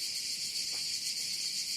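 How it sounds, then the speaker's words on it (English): A dense summer chorus of many cicadas buzzes steadily as a continuous high, shimmering drone, even and unbroken throughout, with no voices. "It was the sound of a cicada."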